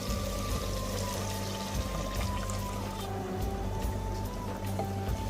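One and a half cups of yogurt pour into a pot of chicken for dahi chicken, a steady, close pouring and splashing wash that runs the whole time over a constant low hum, with no talking.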